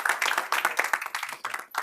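Conference audience applauding and clapping steadily in a hall, a dense wash of many hands with slight swells, no talk over it.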